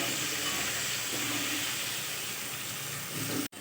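Potatoes frying in a pan with salt and turmeric, a dense steady hiss of sizzling oil that stays loud and even from start to finish, close up, with a brief sharp knock right at the end.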